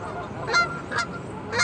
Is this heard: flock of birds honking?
yes